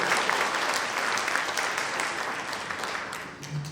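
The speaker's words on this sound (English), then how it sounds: "Please give everyone a round of applause." An audience at a high school graduation ceremony in Columbus applauds, a steady spread of many hands clapping that gradually thins and softens over a few seconds, with a brief voice near the end.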